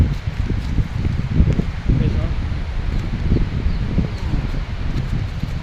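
Strong wind gusts through leaves outdoors near a hut, a steady loud rushing rustle with buffeting low rumble from the wind on the microphone throughout.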